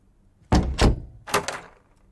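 In a low-budget repair video game, an object thuds against a door twice, each time a pair of heavy knocks close together, with quiet gaps between.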